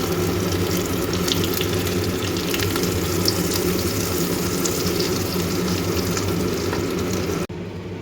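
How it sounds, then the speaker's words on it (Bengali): Spice paste frying in butter and oil with cinnamon, cardamom and bay leaf, a steady close sizzle and bubbling crackle that carries on evenly, with no talk, before cutting off near the end. "এর মধ্যে আমি দারচিনি, এলাচ আর তেজপাতা ফোড়ন দিয়ে আমি যে পেস্টটা করেছিলাম কালকে সেই পেস্টটা এর মধ্যে ঢেলে দেবো"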